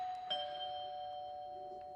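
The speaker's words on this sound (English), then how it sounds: "Ah, that's the doorbell." A doorbell chimes once in a cold house at Christmas, a single bright ding-dong tone ringing out clearly and sustaining softly over faint room noise.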